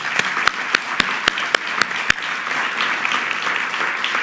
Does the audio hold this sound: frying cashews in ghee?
no